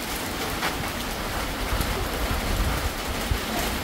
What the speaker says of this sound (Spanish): Pleno verano tenemos una lluvia